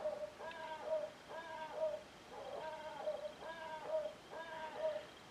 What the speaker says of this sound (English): That is like an owl statue that we have in our garden that is supposed to go off when a cat goes into the garden